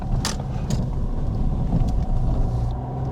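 A car pulling away in second gear after a turn, giving a steady close engine and road rumble that holds level throughout, with faint brief clicks near the start.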